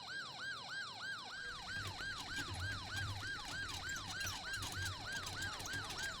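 An ambulance siren wails in a steady, repeating rise-and-fall cycle, loud and continuous, with a low engine rumble beneath it at a roadside accident scene.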